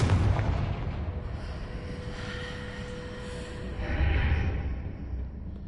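A Confringo spell blast in Hogwarts Legacy on PS5, a deep rumbling boom at the start fading into a sustained low roar with a faint tonal hum and a second swell near the end, no talking.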